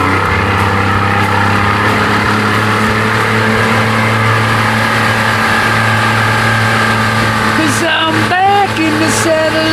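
A 1992 Johnson 60 hp outboard motor runs at a steady loud drone with strong harmonic hum, rising slightly in pitch near the end while a voice speaks briefly over it.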